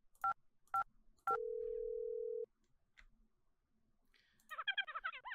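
Keypad tones from a phone in a video game: three short dialing beeps, then a long steady tone, a brief pause and a warbling electronic trill at the end, all clean and close.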